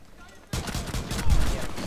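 Gunfire in the tactical shooter Rainbow Six Siege: a sudden loud burst of rapid shots that keeps going as a dense, harsh rattle for about a second and a half.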